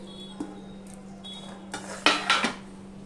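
An egg mixture with chili, onion, salt and turmeric goes into a metal tiffin box, producing scattered light clinks and scrapes of container and utensil, with a cluster of sharper knocks near the end.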